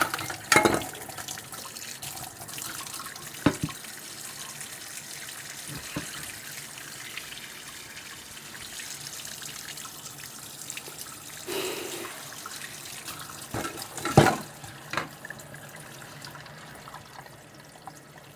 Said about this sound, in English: We're going to put warm water on there.